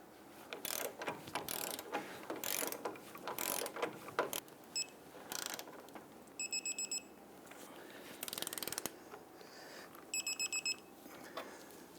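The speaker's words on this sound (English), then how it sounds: "Go ahead and torque down our control arm bolts to 96 foot-pounds." A torque wrench tightens front lower control arm bolts on a 2000-2006 Toyota Tundra, producing sharp ratcheting clicks in short bursts, with two brief electronic beeping signals between them.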